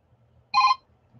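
Telephone ringing once in a short, bright electronic trill that cuts off after a fraction of a second, fairly close, against a quiet room hum.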